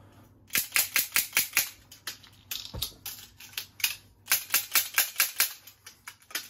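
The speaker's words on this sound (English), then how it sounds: "Had a hard time getting that cylinder open, and that was a really bad reload." Speed-reload practice with a revolver, the cylinder being opened and worked: a rapid string of crisp metallic clicks and clacks, close and fairly loud, arriving in two quick bursts around a single dull thud.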